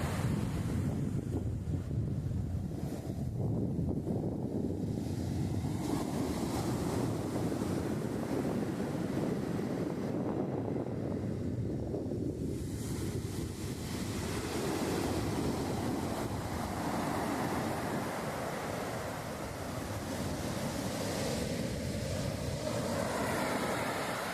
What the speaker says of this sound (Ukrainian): Скалея мене проважає шторм. Море штормить дуже.